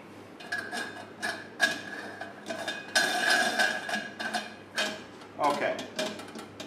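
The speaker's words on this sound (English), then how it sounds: "So we're going to put the nozzle on," A nozzle is fitted onto a sausage stuffer in a kitchen, making a series of close metallic clanks, taps and clicks spread across several seconds.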